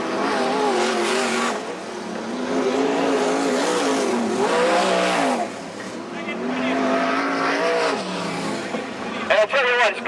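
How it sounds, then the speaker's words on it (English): Sprint cars racing at a speedway during a night of Australian outlaw sedan racing at Macs Speedway, engines roaring loud and continuous with rising and falling revs as cars pass. "it's great to have these local sprint cars. They're putting on a real show here."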